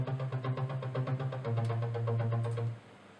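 Clean synthesizer layers play a pulsing, rhythmic pattern over a sustained low drone, clear and dry, then cut off near the end.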